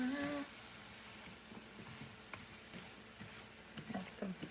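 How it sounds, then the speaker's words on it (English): Vegetables stirred around in a hot pan, with soft sizzling and scattered scraping and clinking strokes at an uneven pace, fairly faint and close, with a voice heard briefly at the start. "Let's stir it around."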